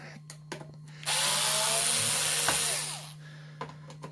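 A power drill backs screws out of an APC voltage-regulating power line conditioner: one loud, steady whirring burst of about two seconds, close up, with a few faint clicks and handling knocks before and after.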